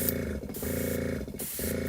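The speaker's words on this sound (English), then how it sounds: "so we'll do a test spray here on the paper towel" Thinned model paint bursts from an airbrush onto a paper towel in three short test sprays, a steady close hiss with brief gaps between each burst.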